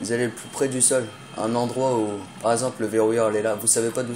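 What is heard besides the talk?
No everyday noise stands out behind the speech.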